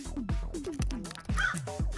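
A crow gives a run of about seven loud, harsh caws in quick, steady succession, close and unaccompanied.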